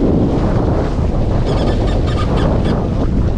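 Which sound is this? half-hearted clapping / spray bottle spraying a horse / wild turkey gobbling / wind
wind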